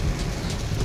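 Heavy rain drums steadily on a car on a monsoon drive toward Panchgani, a dense continuous hiss and patter heard from inside the vehicle, with no talking.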